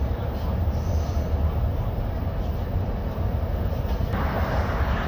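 Amtrak Pacific Surfliner passenger train rolling along the rails, heard from inside the car as a steady, loud rumble with rhythmic wheel clatter that never lets up.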